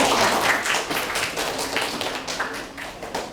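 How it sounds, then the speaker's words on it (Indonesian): A school class of 11th-grade students applauds, with steady dense clapping that holds for a few seconds and fades slightly toward the end. "Kita kasih aplaus untuk kelas 11 IPA 5."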